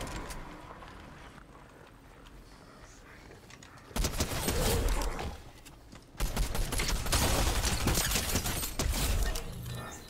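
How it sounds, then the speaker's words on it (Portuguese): Gunfire in a PC shooter game: bursts of shots and sharp impacts break out in two loud stretches after a quieter opening, fairly close and dense. "Finalmente achei alguém trocando tiro."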